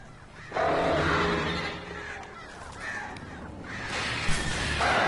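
Crows caw in the Alan Wake Remastered video game, a flock giving loud, harsh, overlapping calls in several long bursts against a rushing outdoor background.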